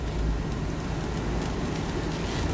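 A 1994 Ford Bronco truck engine drones steadily while driving, a dense low rumble with road noise that holds at an even, close level throughout.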